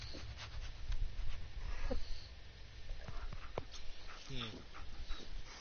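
Dogmeat, the German Shepherd companion in Fallout 4, pants and whimpers softly in short breathy bursts, fairly close, with a few quiet clicks and shuffles around it.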